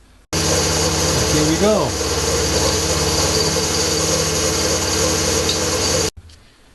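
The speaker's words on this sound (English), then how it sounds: "With both ends done, I can now mill the centre to 80mm square." A milling machine takes a 2mm cut across a steel cannon axle, squaring the centre to 80mm; a loud, steady motor and cutting drone runs throughout, with a brief rising whine early on and a short spoken phrase near the start.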